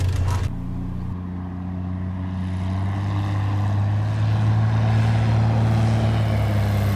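Small propeller airplane engine steadily adding power during a slow-flight approach to a rough backcountry airstrip, a loud continuous droning hum with strong low harmonics that builds slightly, heard from inside the cockpit.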